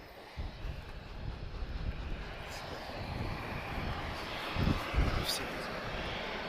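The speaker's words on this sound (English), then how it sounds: "We'll get some aircraft noise as well. Yeah, I can see a global 6000 inbound." Bombardier Global 6000 business jet inbound to Lisbon Airport, a broad steady engine roar heard from a distance and mixed with wind buffeting on the microphone.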